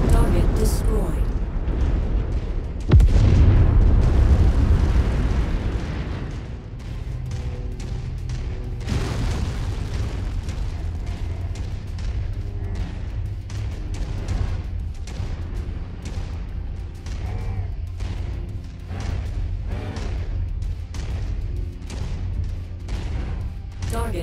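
Big booming blast as a destroyed target blows up in the mech combat game MechWarrior 5, one heavy burst early, then continuing rumbling battle noise and clattering weapon fire under a voice.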